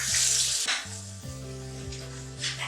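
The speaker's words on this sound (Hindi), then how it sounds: "मसाले को आपने बहुत अच्छी तरह भूनना है" Masala spices for palak paneer frying in a pan, a close, continuous sizzle with a bright hiss that swells at the start and end, and no one talking.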